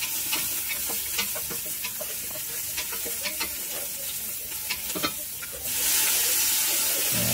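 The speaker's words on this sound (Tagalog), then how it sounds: "gisay na natin yung onion saka garlic" Onion and garlic sautéing in a pan for goat caldereta, a steady loud sizzle with frequent scraping stir strokes, growing to a brighter, fuller hiss near the end.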